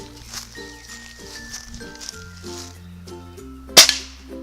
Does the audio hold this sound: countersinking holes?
no